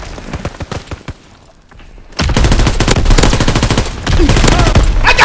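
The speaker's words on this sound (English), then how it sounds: "Someone's shooting at me." In Call of Duty WWII online deathmatch, loud sustained automatic gunfire bursts out in rapid rattling volleys after a few scattered shots and a short lull.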